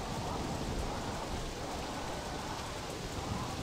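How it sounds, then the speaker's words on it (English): Rain beginning in the pirate video game Sid Meier's Pirates!, a broad, steady rushing downpour with a low rumbling undertone, continuous and even with no distinct drops or voices. "And it's starting to rain."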